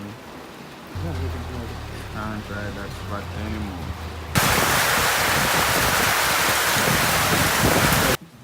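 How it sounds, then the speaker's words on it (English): Rain falls in a sudden heavy downpour, a loud, steady hiss of drops on surfaces that sweeps in halfway through after people talk, then cuts off abruptly. "Now it's raining."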